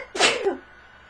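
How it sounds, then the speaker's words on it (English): A single sharp human sneeze bursts out close and loud indoors, over in a fraction of a second, then quiet room tone follows. "And I'm going to sneeze."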